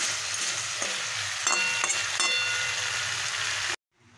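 Cauliflower and potato cooking with spices in a pan, a dense close sizzle with a few scraping stirs, cut off abruptly near the end, no voices.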